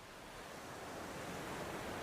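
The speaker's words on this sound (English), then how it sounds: "when waves roll in here, there's no friction with the ground slowing them until the very last second, at which point the waves break abruptly" Ocean surf at Sandy Beach, Hawaii, where deep water runs right up to shore and waves break abruptly, a faint, steady wash of broadband roar swelling slightly, distant and without voices.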